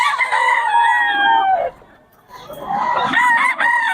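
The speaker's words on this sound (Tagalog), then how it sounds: "Oh, ang gulo ng manok." Roosters crow loudly and close, one long crow followed by another after a brief pause, with some clucking mixed in.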